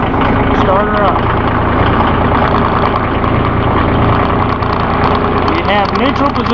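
A Massey Ferguson 1734E compact tractor engine runs in a loud, steady idle throughout, with a person talking over it.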